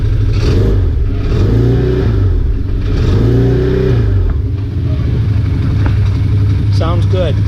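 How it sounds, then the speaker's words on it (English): A Can-Am Maverick UTV engine tuned with an EVO Maptuner, revved in a few loud rising and falling bursts close to the microphone, settling back to a rough idle between revs. "So let's give her a little gas,"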